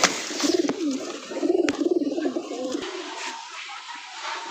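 A tumbler pigeon said to do forty somersaults a minute coos close by in repeated rhythmic bursts, with a few sharp clicks, fading to quiet near the end.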